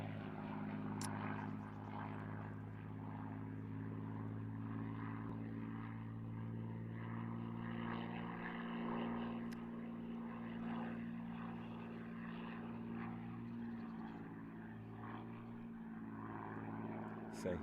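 A propeller aerobatic plane repositions in flight between figures at a British aerobatics championship, its engine droning steadily with a strong low buzzing tone, distant and fairly faint, holding without much change for the whole stretch.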